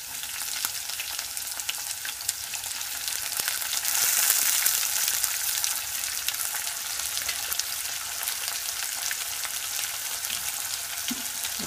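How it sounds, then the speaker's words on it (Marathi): Onion and tomato frying in hot oil for rajma masala, a loud continuous close-up sizzle with faint stirring, swelling briefly midway, no voices. "आता हे चांगलं तेलामध्ये गुलाबी असं भाजून घ्यायचं"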